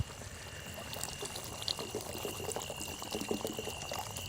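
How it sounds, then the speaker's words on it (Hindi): Water is poured into a curry gravy cooking over a campfire in a forest at night, a faint, continuous trickle and gentle bubbling from the pot. "अभी और थोड़ा भी पानी डाल देंगे।"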